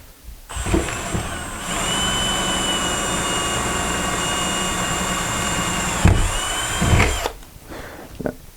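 A power drill drives screws into a van ceiling, whirring loudly and steadily for several seconds, then giving a brief second burst before stopping, with small handling knocks around it.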